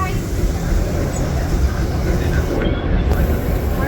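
Disneyland Railroad train rolling along its tracks, a steady low rumble of wheels on rails that holds at the same loud level throughout, with faint occasional clicks and no speech.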